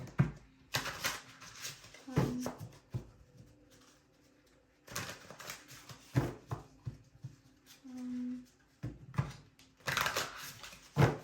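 Tarot cards being shuffled in three bursts of riffling and sliding, each loud and close, separated by quieter gaps with faint rustle; a soft tonal hum sits low under the handling.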